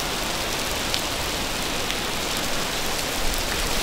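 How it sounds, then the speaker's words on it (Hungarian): Steady rain falls outdoors under cloudy skies, a dense, continuous hiss of drops on surfaces with no pauses, fairly loud and close, with no voices. "csak akkor esik az eső, mikor videózunk"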